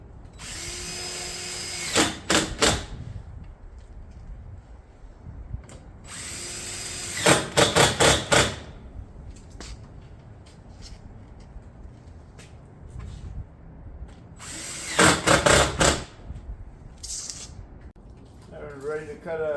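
Granite Ridge roof shingles fastened in three separate bursts of rapid, loud, close nailing with a power fastener, quiet stretches between each burst.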